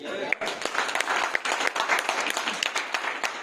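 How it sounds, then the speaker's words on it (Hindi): Audience clapping in a hall during a sales seminar, a dense burst of many hands with sharp individual claps, steady through the whole stretch and fairly close. "एक बार ताली बजा सकते हैं?"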